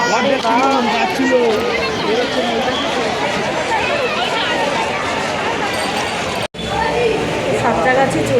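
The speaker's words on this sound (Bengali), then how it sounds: "প্রচুর ভিড় প্রচুর চলে" A large, dense crowd bustles along a busy road toward a train station, a steady loud wash of overlapping voices and footsteps that breaks off briefly near the end and then resumes.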